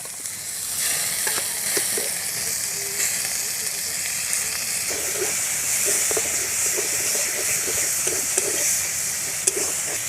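Chili powder and cumin paste sizzle in hot oil for chicken ghugni, a steady bright hiss with faint stirring scrapes running throughout.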